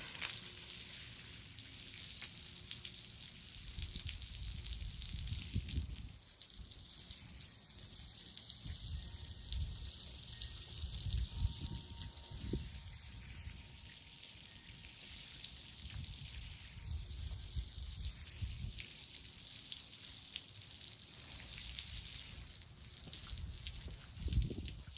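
Water pours from a bottle onto potted plants in large containers outdoors, a steady splashing trickle over soft background noise that runs most of the way through, with no talk.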